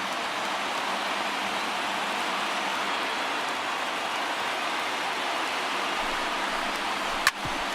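Stadium crowd noise from the MLB The Show 19 baseball game, with more than 31,000 fans rising to their feet at two outs in the ninth. A steady, dense roar holds throughout at an even level, with a brief sharp crack near the end.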